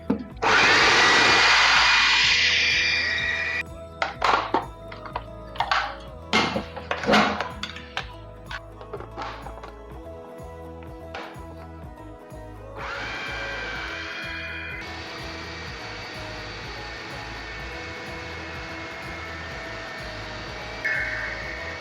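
An electric grinder whirs loudly through a beef shami kabab mixture with a little oil. It runs in a long burst, then in several short pulses, and ends in a steadier, lower run.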